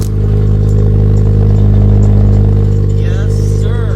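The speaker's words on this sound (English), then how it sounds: "So that front pipe is rattling." A Subaru BRZ running with a rattling JDL front exhaust pipe, giving a loud, steady engine drone with a metallic buzz throughout and a brief rev-like sweep near the end.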